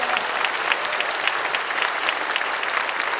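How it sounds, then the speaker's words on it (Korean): Steady, dense applause from a church congregation welcoming a guest at a Korean War veterans' prayer gathering, sustained and fairly loud throughout with no speech. "여러분 환영의 박수 해주시면 고맙겠습니다"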